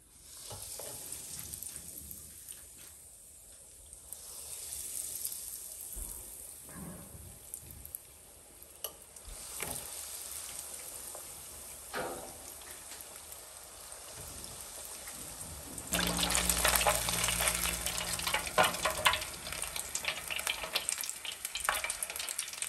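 Croquettes deep-frying in oil heated to 160 degrees, a steady dense crackling sizzle that swells louder and busier toward the end, close by with no voices.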